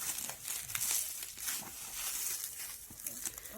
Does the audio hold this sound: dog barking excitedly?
no